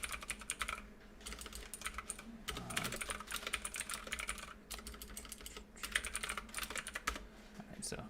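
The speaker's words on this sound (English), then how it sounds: "So that's my mechanical keyboard, by the way." Rapid clicky keystrokes on a mechanical computer keyboard, typed in quick bursts with brief pauses between, close and fairly quiet.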